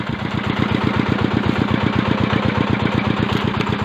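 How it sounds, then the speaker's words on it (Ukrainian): Idling tractor engine on a log-hauling rig, a steady close diesel chug with a regular rapid low thumping rhythm and mechanical clatter, running alone without pause. "Я навіть не глушив трактора."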